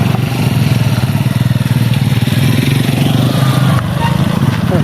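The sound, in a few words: motorcycle engine riding uphill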